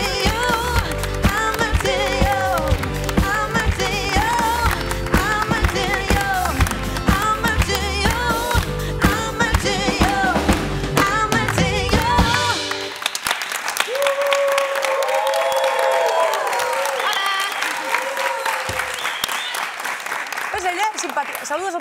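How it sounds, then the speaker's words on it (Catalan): Studio audience of a Catalan talk show welcoming actress Laia Manzanares, loud clapping and cheering over upbeat music for the first half, then the music drops away and applause continues more thinly. "Rebem un fort aplaudiment a la Laia Manzanares."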